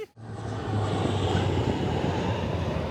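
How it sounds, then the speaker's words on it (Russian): Patrol airplanes flying over a beach in Hakone, Japan: a steady, broad engine roar that rises quickly and holds loud and constant for a few seconds, with a low droning hum underneath. "там летали патрульные самолеты и смотрели, чтобы никто не купался"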